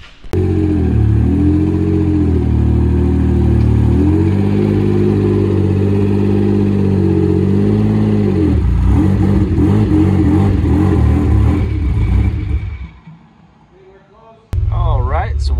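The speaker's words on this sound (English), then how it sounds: "they just put on a Pulsar GTX 3584 RS. I'm kind of anxious to see the difference in this turbo. So let's get it on the dyno" A Honda NSX fitted with a Pulsar GTX 3584 RS turbo roars loudly on a dyno, holding a steady droning engine note, then climbing and wavering before dropping to idle and blaring again, with people talking under it.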